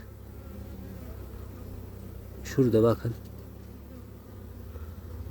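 Honeybees from a weak hive with an Italian Gold queen give a steady low hum throughout, with a brief louder burst of buzzing near mid-clip as a person speaks briefly over it.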